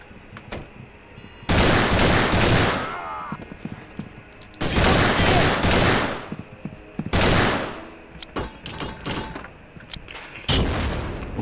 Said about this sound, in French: Pourquoi est-ce que j'ai l'impression qu'il m'a lancé une grenade dessus?